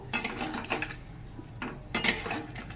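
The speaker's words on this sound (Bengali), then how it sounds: "এটা দিয়েও কিছুক্ষণ নাড়াচাড়া করে নেব" A spatula scrapes and clinks against a pan while bottle gourd greens are stirred with mustard paste and sugar, giving bursts of close metallic rattling separated by short pauses.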